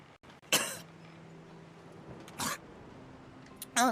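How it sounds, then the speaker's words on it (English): Malady, a character in the video game Divinity: Original Sin II, gives short bursts of harsh retching and a sharp sneeze, three distinct loud outbursts separated by quieter gaps, with no speech. "Malady explodes in a fit of retching that racks her body."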